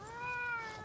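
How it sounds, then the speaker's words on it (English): A male domestic shorthair cat gives a single close, clear meow that rises and then falls slightly, lasting just under a second. "He's a male cat, domestic short hair."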